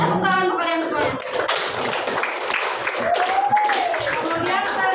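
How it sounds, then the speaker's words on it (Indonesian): A classroom of students claps together in steady, dense applause filling the room, with voices mixed in and talking heard over the clapping toward the end. "tepuk tangan untuk kalian semuanya"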